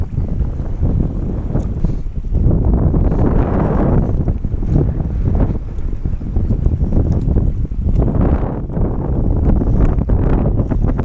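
Strong wind on Lake Bistineau during a fishing trip from a boat, roaring and buffeting the microphone in loud, uneven gusts that rise and fall over the whole stretch.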